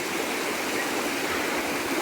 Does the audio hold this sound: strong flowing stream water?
yes